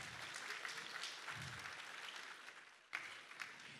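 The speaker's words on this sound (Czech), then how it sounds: "Zatleskejte jí." Spectators at a samurai tameshigiri sword-cutting show applaud a girl, a faint, fairly distant crowd clapping that dips briefly before a sharp burst near the end.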